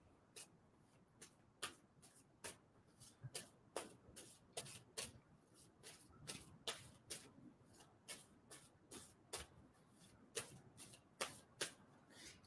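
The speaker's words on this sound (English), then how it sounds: "And tell me when to stop shuffling, please." Tarot cards are shuffled by hand, giving a long run of crisp riffling bursts at a steady, slightly uneven rhythm, close and fairly quiet, with no talking.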